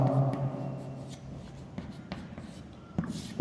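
Pen strokes scratch softly across paper in short, scattered bursts during a Class 7 maths lesson, quiet and close, with no talk over them.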